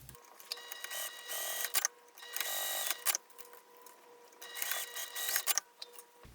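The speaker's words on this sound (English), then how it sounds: "So let's sew these two pieces." A sewing machine stitches two fabric pieces together with white thread for a pouch, running in several bursts of steady mechanical whirring separated by short pauses, close and moderately loud.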